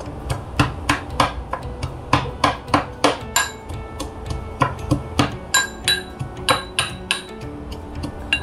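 Ginger and garlic pounded by hand for a mutton gravy, producing a steady rhythm of sharp metallic thuds and clinks, about two strikes per second, loud and close with no talking.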